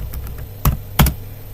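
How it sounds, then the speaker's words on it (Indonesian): Keys clack on a computer keyboard while typing a word into Microsoft Word, a couple of close, distinct double taps with faint softer presses between them. "Misalkan coba kita ketikkan aja"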